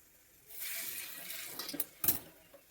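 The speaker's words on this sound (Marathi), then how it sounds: "यामध्ये थोडं पाणी टाकूया आपण" A short pour of water into a pan of clam curry gives a brief, soft splashing rush, then a couple of clinks from the pan, close by and fairly quiet.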